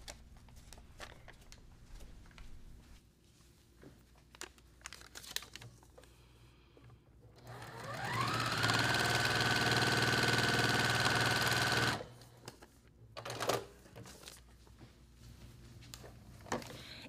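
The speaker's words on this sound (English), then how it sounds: "And I'm using a Juki sewing machine, TL2010-Q." A Juki TL2010-Q sewing machine runs steadily for several seconds, a fast mechanical whir and rattle, close by, framed by quieter clicks and handling sounds before and after.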